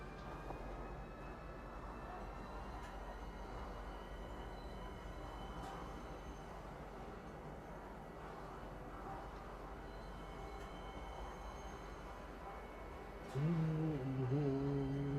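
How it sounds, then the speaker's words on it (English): Metro train in the video game Star Citizen pulls into Metro Center station, a steady low rolling rumble with faint high whine throughout, then a louder tonal screech of braking near the end. "Now arriving, Metro Center. Please watch your step when disembarking the train."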